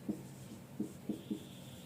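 Writing the number 243 on a board, four short tapping strokes close by in a quiet room.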